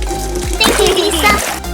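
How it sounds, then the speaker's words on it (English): Water runs and splashes into a bathtub in a home, heard close and fairly loud while someone talks over the sloshing. "fill the bathtub for me"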